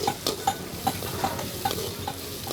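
Smoked pork fries in a pan with onion, chilli, ginger and garlic, a steady sizzle broken by regular scraping strokes of a stirring spoon, heard close with no talk.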